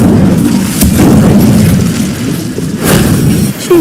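A fiery Incendio spell blast in Hogwarts Legacy erupts as a loud, sustained booming whoosh, swelling twice over a few seconds before fading.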